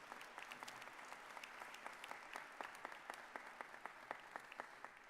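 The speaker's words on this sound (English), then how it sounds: "Let's have a round of applause for the platform party." An audience at a medical school White Coat Ceremony applauds the platform party, with crisp, evenly spaced claps forming a moderate, sustained round of applause heard from a distance, with no voices.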